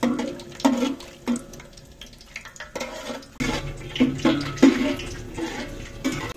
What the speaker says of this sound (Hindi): घी गर्म होकर सबसे पहले गरम मसाला डालेंगे, साथ में हम डालेंगे तेज पत्ता और बादियान के फूल